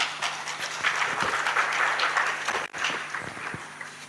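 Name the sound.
applause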